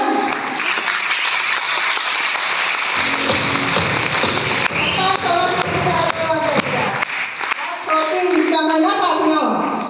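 A burst of clapping rises in the middle, layered under a talking voice that runs throughout.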